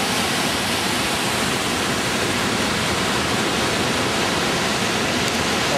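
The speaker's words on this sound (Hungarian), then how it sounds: "De itt most kettő folyik össze." Rushing water roars at the confluence of two rivers in Norway, a dense, steady broadband torrent filling the whole stretch at close range with no speech.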